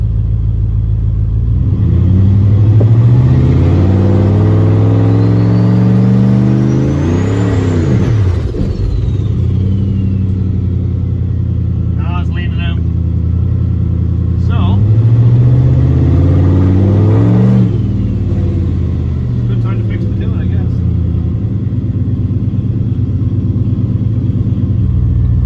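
A turbocharged LS-swapped Caravan accelerates hard while driving, its engine climbing loudly through revs, easing off, then pulling up again in repeated surges, with a faint turbo whistle and whir above the steady cabin rumble and no talking.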